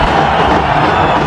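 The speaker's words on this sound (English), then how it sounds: "Even the English fans cheering Nepal right now." English fans at a cricket match between Nepal and England cheer for Nepal in a steady, dense roar of crowd noise that stays loud and even throughout.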